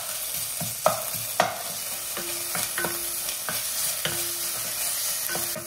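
Onion, green chili and ginger garlic paste fry in hot oil during a chicken gravy, giving a steady close sizzle broken by sharp spoon-against-pan stirring knocks and scrapes throughout.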